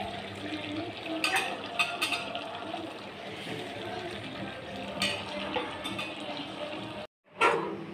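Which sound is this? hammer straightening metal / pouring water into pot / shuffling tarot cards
pouring water into pot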